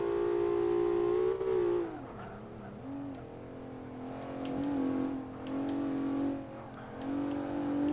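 A Mitsubishi GTO with a V6 engine revs hard around the Nürburgring in Forza 5, a loud close engine note that climbs, drops sharply on shifts and braking, then builds again in repeated surges.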